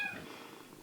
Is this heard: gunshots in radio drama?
no